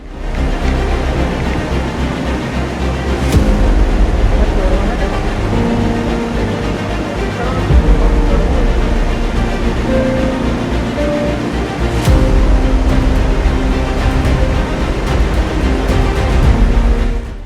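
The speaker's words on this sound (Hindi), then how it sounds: "यहाँ हमें मुख्य वाटरफॉल की आवाज नहीं, गर्जना सुनाई दे रही थी। साथ में बहता हुआ पानी बाकी की कमी भी पूरी कर रहा था।" Roar of the Barpuda waterfall, also called the Birsa Munda waterfall, in Kaprada, with rushing flowing water, a steady broadband wash that stays loud throughout without pause.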